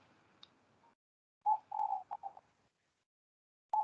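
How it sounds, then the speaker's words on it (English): Soft cuckoo calls drift in from the background in short, spaced bursts, faint and distant, with gaps of quiet between them and no talking over them. "Yeah, I'm listening to the cuckoo in the background."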